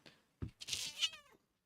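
A cat lets out a single loud, drawn-out yowling meow close by, preceded by a faint soft thump, then silence.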